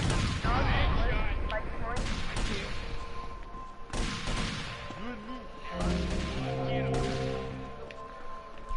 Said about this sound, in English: Are they still shooting at me?